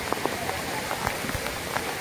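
Soft, steady patter of rain falling on a surface beside Palasdari waterfall and dam, continuous and moderately faint, with scattered louder drops.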